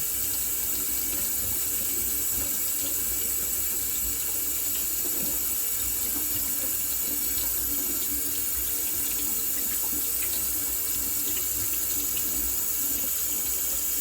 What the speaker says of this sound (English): the fact that it's blue going down the drain means that the oxygen is back into it